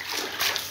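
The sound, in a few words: water splashed onto floor for cleaning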